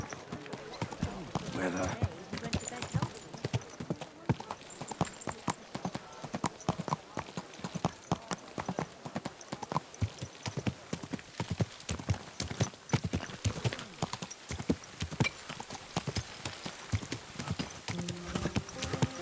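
Horse hooves clip-clop steadily on the ground in the medieval video game Kingdom Come: Deliverance 2, a continuous rhythmic patter of close hoofbeats with people talking over it.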